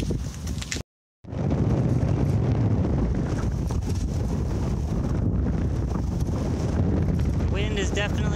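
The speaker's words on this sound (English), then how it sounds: "Wind is definitely picking up." Strong hurricane wind roars and buffets loudly and continuously across the microphone, with a brief gap near the start.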